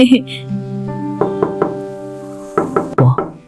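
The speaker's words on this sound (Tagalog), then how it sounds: "Lola, may kumakatok" Several sharp knocks sound on a house door in small groups, close and fairly loud, over a steady tonal background and voices.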